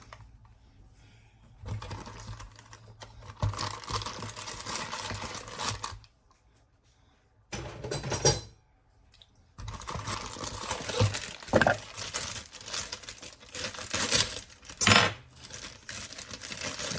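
A package of white cake mix is torn and opened, with close crinkling, rustling and crumpling of the bag in several bursts separated by short quiet gaps, some sharper snaps among them.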